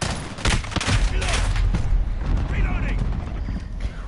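Gunfire bursts from the Call of Duty: Modern Warfare beta on PS4 during a headquarters capture match, dense crackling shots repeating close and loud under in-game radio chatter and a player's voice.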